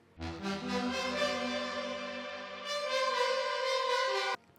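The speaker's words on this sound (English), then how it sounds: "I've got this brass preset that's also from the Serum presets" A Serum brass synth preset plays sustained chords and then a brighter held melody line, with rich layered harmonics swelling and cutting off abruptly at the end, alone without voices.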